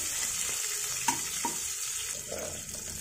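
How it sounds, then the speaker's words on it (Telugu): Onions and green chillies fry in a pan for vegetable upma, a soft, steady sizzle with a couple of brief stirring clinks. "ఈ పచ్చిమిర్చిని ఆనియన్స్ ఒక 1 మినిట్ ఇలా ఫ్రై చేసేసుకొని"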